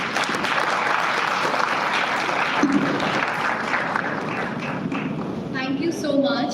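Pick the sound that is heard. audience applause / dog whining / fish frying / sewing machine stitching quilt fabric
audience applause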